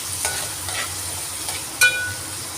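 Onions sautéed lightly in a pan give a steady, soft sizzle, with a few brief stirring scrapes and one sharp clink of a utensil against the pan near the end.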